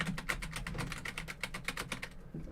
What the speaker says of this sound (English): No mic is going to cut out background noise, especially a keyboard